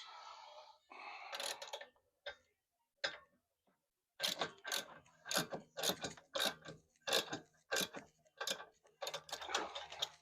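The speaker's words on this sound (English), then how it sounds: "All I have to do is tighten this little screw here" A small screw on an aftermarket camber arm of a 10th or 11th generation Honda Accord is tightened with a ratcheting tool, giving close, sharp clicks in irregular bursts with short pauses between them.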